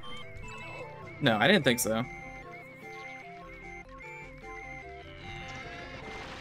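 A cow demon enemy in the Pikmin video game gives a brief, loud horse-like whinnying bellow over steady game music, followed by a short spoken line.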